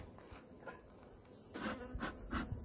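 Bees hum around hives during a pest-management inspection, a soft buzzing with faint handling noises and a few slightly louder bursts toward the end, no voices.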